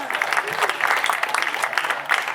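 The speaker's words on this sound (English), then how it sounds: "Give yourselves a round of applause for being quiet." A camp audience applauds itself after a play, giving a brief, even burst of clapping from a crowd that fills the whole moment.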